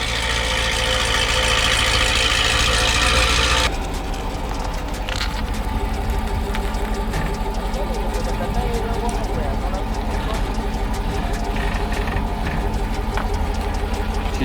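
A Chevrolet Camaro SS, just started, settles into a loud idle; the first few seconds are louder, then the engine runs steadily, with someone talking over it.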